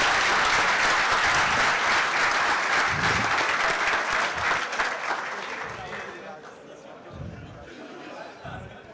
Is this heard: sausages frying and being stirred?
no